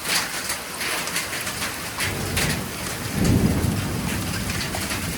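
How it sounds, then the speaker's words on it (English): At an off-grid cabin, a storm brings loud, steady rain and hail pelting the surfaces, and a deep rumble of thunder rolls in partway through. "There's some hail."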